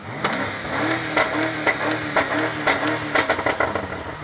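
A 2020 BMW M5 F90 engine revs up and down in short, repeated bursts, loud and nearby, rising in pitch with each push.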